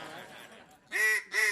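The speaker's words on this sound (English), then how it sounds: "I think they deserve a mallard duck call." A mallard duck call is blown in a studio, giving two short raspy quacking honks after a softer murmur.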